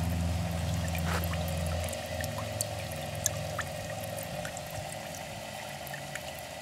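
Mash bubbling and gurgling through the tubes of a 1.5 m continuous moonshine still, a steady liquid pour-and-trickle sound with faint drips, continuous and close, heard outdoors on a windy day.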